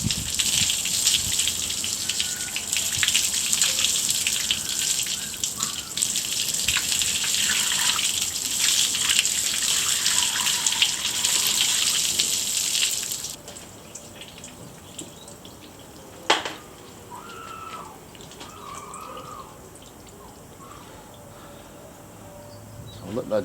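A bucket of soapy water pours over a Front Runner Wolf Pack Pro storage box in a loud continuous gush for about thirteen seconds, then fades to faint dripping and a single sharp knock, with a voice talking in places.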